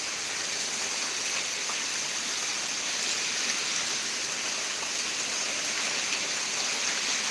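Steady, even thunderstorm rain in Pittsburg, Kansas hisses continuously, a dense wash of falling water with no pauses and no voices.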